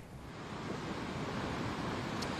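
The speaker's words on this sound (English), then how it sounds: "the creeks in Montecito are flowing this morning" Montecito Creek runs after rain near where Hot Springs and Olive Mill Road meet, a steady broadband rush of flowing water, close and continuous with no voices.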